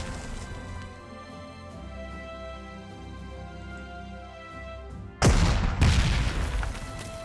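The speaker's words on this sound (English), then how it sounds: "Let's try to attack this with the artillery." Artillery strikes in the WWII strategy game Panzer Corps 2: a quiet musical backdrop breaks into two loud, close booming blasts near the end, the second following about half a second after the first.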